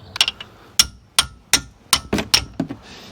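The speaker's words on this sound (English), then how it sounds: "You're going to need a hammer for this." A hammer strikes the front brakes of a Ford Focus Mk1 in a series of about eight sharp metallic blows at an uneven pace, close and loud with no talking.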